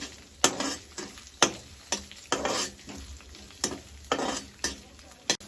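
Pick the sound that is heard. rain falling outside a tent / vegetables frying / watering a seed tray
vegetables frying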